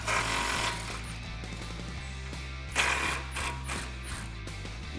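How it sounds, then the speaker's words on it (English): A deep socket on a ratchet works loose the 15mm suspension bolts on a 2015-2019 Mustang GT, with rapid, steady clicking ticks over a low mechanical hum and a brief louder clatter partway through. "I've got a deep socket here. We're just gonna remove these."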